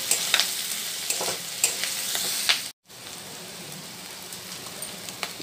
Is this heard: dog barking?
no